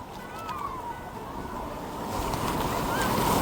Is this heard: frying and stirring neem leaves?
no